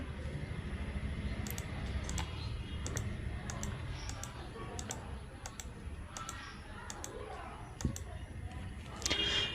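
A phone number is tapped in on a phone to set up call forwarding, a series of faint, quick tick-like keypresses over a quiet background.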